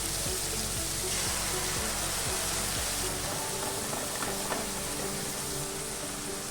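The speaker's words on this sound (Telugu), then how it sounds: "ఇప్పుడు కూరగాయలన్నీ పక్కకు జరిపేసి మనం మిక్స్ చేసుకున్న సాస్ వేసుకోవాలి" Mixed sauce frying in a pan pushed aside from vegetables and paneer for paneer fried rice, a loud, steady crackling sizzle lasting throughout, with a few faint clinks over the hiss.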